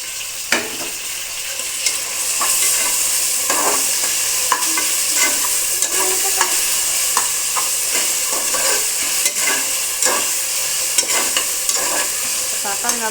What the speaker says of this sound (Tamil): இஞ்சி பூண்டு பேஸ்ட்டு போட்டு நல்லா வதக்கிக்கலாம்